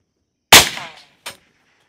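A Ruger LC Charger 5.7x28 pistol firing 40-grain Fiocchi ammunition at a 100-yard range: one loud, sharp report with a quick decaying tail, then a shorter, fainter crack about three quarters of a second later.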